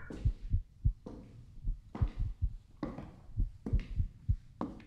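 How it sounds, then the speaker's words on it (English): A heavy heartbeat in the Wrong Floor horror game thuds in slow, paired lub-dub pulses, deep and close, repeating about once a second, with brief airy swells between beats. "Yo, I hear a heart beating."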